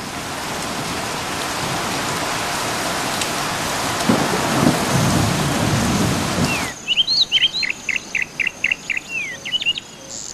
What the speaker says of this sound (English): Only when the rain begins in earnest does Nkosi head for the shelter of the burro